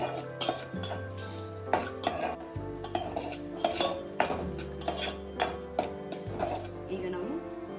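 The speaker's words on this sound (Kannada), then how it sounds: "ನಾನಿಲ್ಲಿ ಡ್ರೈ ಫ್ರೂಟ್ಸ್ ಫ್ರೈ ಮಾಡಲಿಕ್ಕೆ 2 ಟೇಬಲ್ ಸ್ಪೂನ್ ಅಷ್ಟು ತುಪ್ಪ ಹಾಕೋತಾ ಇದ್ದೀನಿ" Raisins and cashews fry in about two tablespoons of ghee in a pan for poppy-seed payasa, with a spoon repeatedly clinking and scraping over a soft, steady sizzle and no clear talk.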